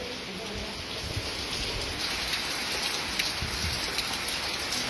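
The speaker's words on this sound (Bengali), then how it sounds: "দেখুন বৃষ্টির আওয়াজ" Heavy rain with strong wind pours down steadily around a village house, a dense, continuous hiss of drops on surfaces that holds at an even level throughout with no pauses.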